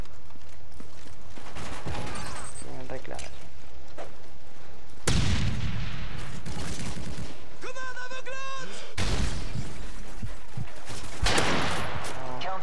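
Rapid bursts of gunfire in Modern Warfare 3 crack out in several loud volleys, mixed with game effects and an excited voice talking between shots.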